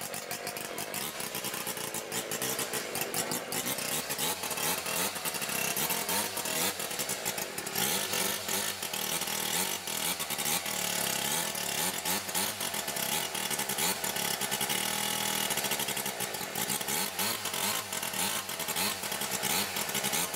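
A vintage chainsaw's small two-stroke engine runs nonstop at a veteran chainsaw show in Sárosd. Its raspy, buzzing roar is loud and close, wavering slightly in pitch as the throttle shifts, with no talk over it.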